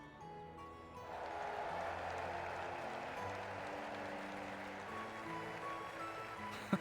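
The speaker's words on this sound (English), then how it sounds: "let us shower these victors with thunderous applause." Crowd applause from the Trails in the Sky video game swells into a steady, faint wash of clapping beneath sustained background music, lasting several seconds.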